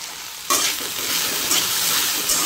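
Chopped okra and onion sizzling loudly in hot oil, kicking in abruptly and then holding a steady, close crackle while being stirred, with occasional scraping of the spoon through the pan and no voices.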